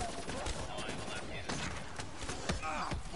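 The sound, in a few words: gunfire in a video game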